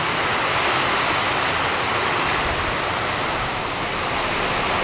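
Typhoon Kristine striking the Bicol region, a dense unbroken roar of heavy rain and wind that holds loud and steady from start to finish with no voices.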